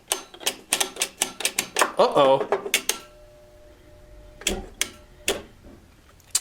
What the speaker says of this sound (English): So the relays are now clicking, which means the thermostat's now calling for heat.